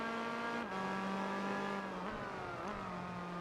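A Toyota Supra race car engine droning steadily in Gran Turismo 4, holding a high, even pitch with slight dips and shifts in revs, close and continuous with no talking.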